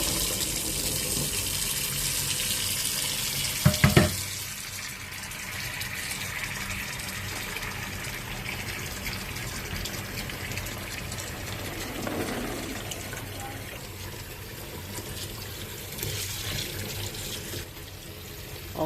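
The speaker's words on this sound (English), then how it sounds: "We picked 9 pounds of chokecherries this morning. Now it's time to wash them off." Tap water gushing steadily onto freshly picked chokecherries being washed, a continuous close splashing rush with a brief clatter near the start.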